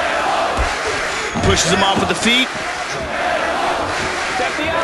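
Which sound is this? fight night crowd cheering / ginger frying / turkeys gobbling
fight night crowd cheering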